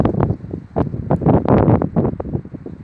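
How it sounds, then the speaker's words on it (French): Gusty wind buffets the microphone outdoors at a parking area in the Rhône valley, loud, close rumbling bursts that rise and fall irregularly with no voices. "Et en plus, il y a du vent."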